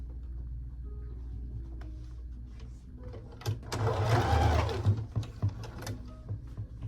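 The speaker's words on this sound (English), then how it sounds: "Pull back the lining and start stitching" Sewing machine stitching a dress lining: a low steady motor hum with a louder burst of rapid stitching midway, then lighter intermittent runs, close and moderately quiet.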